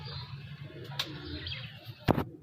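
Soft, low cooing from Bandum Teddy pigeons rolls on steadily nearby, broken by a couple of brief clicks and a short rustle.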